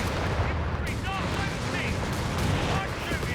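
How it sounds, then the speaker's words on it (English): Machine-gun fire and other gunfire rattle across a Company of Heroes 3 multiplayer battle, dense and continuous, with artillery rumble and a commentator talking throughout. "Machine gun there, the next target."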